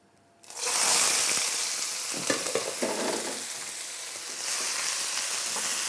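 Vegetables dropped into a hot pan with garlic burst into a loud, steady sizzle after a brief quiet start, with a few scraping stirs partway through and the frying continuing strongly to the end.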